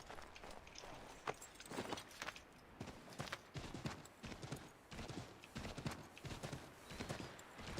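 Horse hooves clip-clop in a quick, steady trotting rhythm, close and clear, continuing throughout, in the video game Assassin's Creed III.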